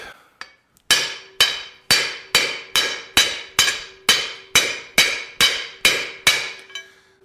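A sledgehammer strikes a wheel bearing on the spindle of a 1941 Mercury custom car during a disc brake install, about a dozen sharp ringing metallic blows at an even, steady rhythm, loud and close with no talk.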